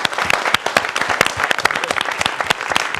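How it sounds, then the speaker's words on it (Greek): A Greek cultural association's audience gives warm applause at a folk event, with distinct, fairly sparse claps from a modest crowd, some sharp individual hands standing out in an uneven rhythm. "Ένα θερμό χειροκρότημα για το Θανάση μας."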